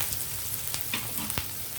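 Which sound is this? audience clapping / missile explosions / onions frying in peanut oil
onions frying in peanut oil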